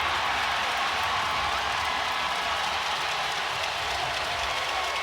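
Roaring crowd noise fills a basketball arena during an NBA playoff game between the Oklahoma City Thunder and Indiana Pacers, a steady, dense wall of cheering with no breaks, heard from within the stands.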